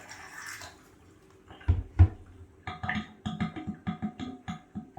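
Drain cleaner poured from a bottle down a bathtub drain with the hair catcher removed, giving a run of close, uneven glugging splashes and gurgles that quicken after a couple of soft knocks.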